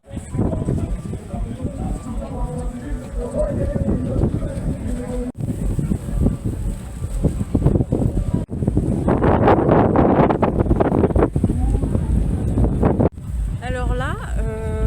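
Steady wind buffets the microphone outdoors at the Delta Festival in Marseille in 2021, a continuous rushing roar that runs through the whole stretch while people talk over it.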